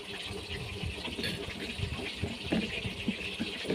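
Water pours steadily into a small bowl of ground turmeric, coriander, cumin and ginger powders to mix a spice paste, a continuous close gushing trickle lasting several seconds, with no talk.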